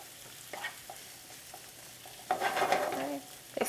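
Onions being stir-fried in a pan for a vegetable stir-fry: soft, faint sizzling broken by scattered scrapes of a spatula, then a louder burst of stirring and frying near the end.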